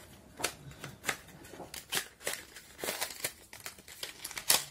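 Crinkling and tearing of Nyx makeup product packaging as it is opened by hand, a run of close, sharp rustles and rips in irregular bursts.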